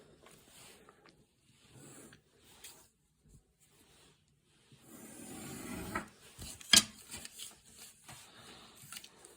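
A pen or pencil is drawn across a paper sewing pattern during pattern drafting, giving soft, close scratching strokes broken by quiet gaps, with one sharper tap near the end.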